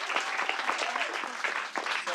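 Audience applause at a comedy night, a steady dense patter of clapping from a crowd indoors, fairly close, with a few scattered voices mixed in and a brief dip near the end.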